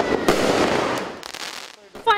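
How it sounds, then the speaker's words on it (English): Fireworks bursting during Diwali celebrations in Fiji, a dense barrage of crackling and popping blasts with sharp louder bangs, continuous and busy throughout, sounding moderately near with street festivity around. "Fireworks filled the skies and many filled the streets and homes to partake in the festivities."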